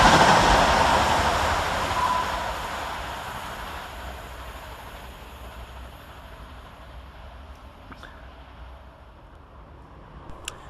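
Passenger train running fast through a railway station, a loud broad rush that fades steadily over about ten seconds into a distant rumble.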